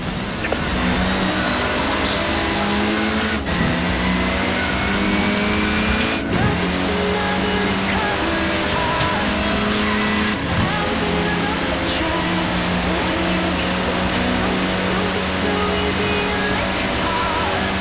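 Car engine in Forza Horizon 4 revving and droning steadily, loud and close, with rising and falling pitch and a few sharp gear-shift breaks over nearly eighteen seconds.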